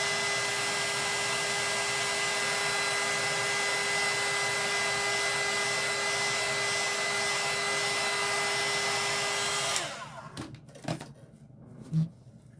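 A hair dryer blows steadily on a craft snowman, a loud constant whirring drone for about ten seconds before it switches off, followed by a few faint handling knocks.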